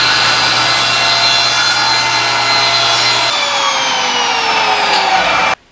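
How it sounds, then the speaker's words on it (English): A table saw with a crosscut sled cuts nearly all the way through a piece of wood, giving a loud, close, sustained whine that drops in pitch partway through the cut, then cuts off abruptly. "we're going to cut through almost all the way so we know where our saw kerf is going to be."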